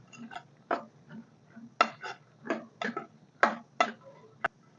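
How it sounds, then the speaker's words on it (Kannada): A spoon scrapes and clinks against a pot of black-eyed pea curry with tempering and salt, in a series of sharp, irregular strokes, close by and fairly loud, with brief gaps between. "ಇವನ್ನೆಲ್ಲ ಕೆಳಗ ಮ್ಯಾಗ ಮಿಕ್ಸ್ ಮಾಡ್ಕೊಂಬರ್ರಿ"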